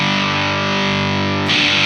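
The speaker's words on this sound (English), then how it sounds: "bring our volume up a little bit so we can get some distortion to where we want it" Electric guitar played through an all-tube overdrive pedal, the Thorpy FX Electric Lightning, with drive and volume raised, giving a loud, saturated distorted chord that rings steadily before the tone shifts near the end, no speech.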